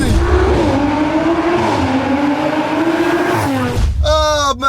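Stage 1 Audi RS5 with over 500 brake horsepower launching from 0 to 60, its engine roaring loud and close as revs climb and drop through gear changes, ending in a rising high-pitched rev.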